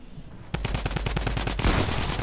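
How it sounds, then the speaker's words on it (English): Rapid minigun fire in the video game Fortnite, a loud continuous burst of fast, dense shots that starts half a second in and keeps hammering steadily to the end with no talk. "Give me the minigun!"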